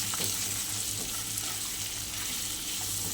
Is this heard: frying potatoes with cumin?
yes